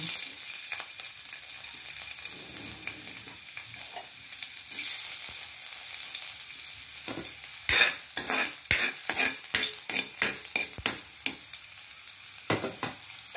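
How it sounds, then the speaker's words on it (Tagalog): Garlic frying in oil in a pan for a cauliflower dish, a soft steady sizzle underneath with a run of sharp clattering spoon strokes later on, close and moderately quiet. "may mantika ng ating kawali. Lagay ko na ang bawang."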